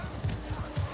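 Horse hooves galloping in The Last of Us Part 2, a quick rhythmic clip-clop of several beats over game ambience.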